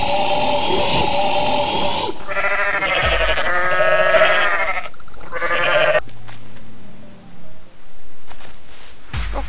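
Goats bleat in the Goat Simulator video game, loud drawn-out cries near the start and a few shorter bleats following, then quieter game noise.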